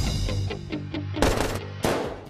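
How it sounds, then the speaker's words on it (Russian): Pistol gunfire in a film trailer, a rapid burst of sharp shots followed by two louder, broader blasts, mixed with music and effects. "Я стреляла из пушки, круто скажи."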